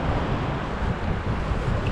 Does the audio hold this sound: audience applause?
no